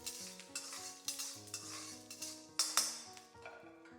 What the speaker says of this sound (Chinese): 接下來鍋裡倒入少一點點食用油，把蒜末倒進去